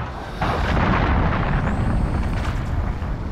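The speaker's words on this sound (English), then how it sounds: "Allied cruise missile away" A cruise missile explosion in Call of Duty Modern Warfare multiplayer, a loud, deep blast that swells suddenly and rumbles on with a heavy roar, with no voices over it.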